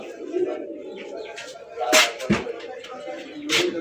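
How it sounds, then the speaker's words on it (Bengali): Restless Raj Golla pigeons coo low in the background while sharp wing flaps and flutters burst out several times, close and uneven, with no voices present. "দেখেন খুবই ছটফটা। কবুতরগুলো খুবই চঞ্চল টাইপের।"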